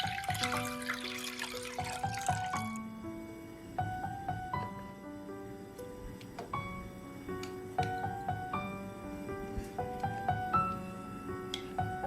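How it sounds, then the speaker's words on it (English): Water pours and splashes into a pot for a couple of seconds, then gives way to soft plinking music; quiet overall. "In a pot, pour in 1 liter of water"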